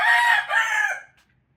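A six-month-old Bulik sweater gamecock rooster crows once, loud and close, in a single call of about a second that trails off into quiet.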